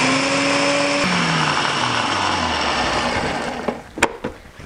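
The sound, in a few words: blender grinding red pepper flakes into powder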